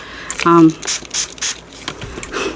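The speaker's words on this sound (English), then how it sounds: "Don't know why I'm spraying so much." Several short bursts of hissing spray, spaced irregularly, close to the listener, with a person talking between them.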